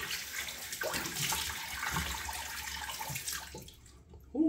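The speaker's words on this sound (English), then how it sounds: "Right, rinse face." Water splashes and runs from a tap as a man rinses his face at a sink after a double-edge razor shave, a steady close wash that fades near the end before a brief louder splash.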